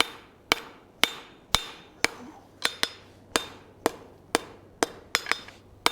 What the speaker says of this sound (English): You want to take care of hammering that webbing flat first and foremost before you start drawing out the rest of this material